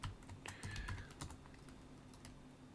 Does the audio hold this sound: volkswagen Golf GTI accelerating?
no